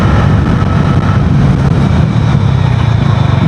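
A Bajaj Dominar 400 motorcycle engine accelerating hard toward 100 km/h, a loud, steady low rumble with continuous engine drone and wind roar, close and unbroken throughout.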